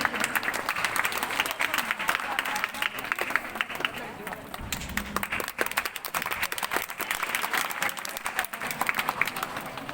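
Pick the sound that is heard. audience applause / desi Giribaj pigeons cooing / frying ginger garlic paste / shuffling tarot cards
audience applause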